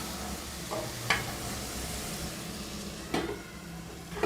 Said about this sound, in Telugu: స్వీట్ కార్న్ అనేది చాలా తొందరగా మనకి వేగుతుందన్నమాట.